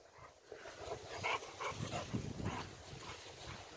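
A playful dog yips, whimpers and gives short barks in fits and bursts across the clip, fairly faint and mixed with outdoor background noise.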